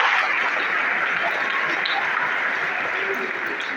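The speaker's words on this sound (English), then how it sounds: "Please give her a big round of applause." An audience at a school annual prize distribution ceremony gives sustained, even applause, a dense wash of many hands clapping that carries on without a break.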